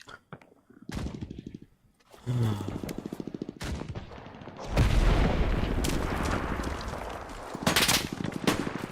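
Gunfire from a tank in a video game: rapid bursts of shots and booms that build into sustained heavy firing, loud and close, with a voice partly over it.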